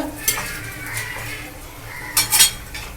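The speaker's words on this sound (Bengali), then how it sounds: "এভাবে আমি সবকটা কচুরি ভেজে নেব" Chickpea-stuffed kochuri deep-fry in oil with a low, bubbling sizzle, broken by a few sharp clinks of a utensil against the pan.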